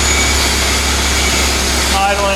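A Toyota FJ Land Cruiser engine idling at low revs, a steady loud rumble with a continuous low hum, close up and unbroken.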